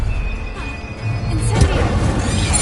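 A Stupefy spell cast in the Hogwarts Legacy video game lands as a loud crashing impact with a booming burst amid ongoing combat noise, brief and forceful in the middle of the moment.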